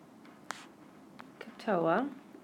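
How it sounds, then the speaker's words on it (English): A pen writes SOHCAHTOA on paper, making soft, close scratches and taps in short strokes, with a person speaking briefly near the end. "what I do to help is I write SOHCAHTOA"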